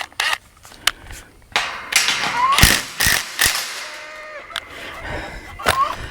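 Metal ratcheting and clanking of a wrench loosening the top hinge bolt on a newly installed farm gate, heard in short bursts with thumps, with goats nearby and brief voices between the bursts.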